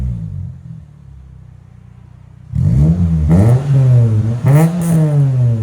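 A 2005 Toyota Corolla XRS with a 1.8L engine, 6-speed and Megan Racing exhaust idles low, then is revved hard several times in rising, falling sweeps, loud and close, with no talk.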